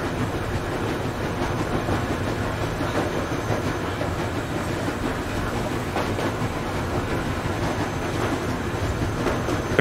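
A moving train in the video game Metro Exodus rumbles steadily throughout, a continuous loud rolling clatter of wheels and carriage noise with no break.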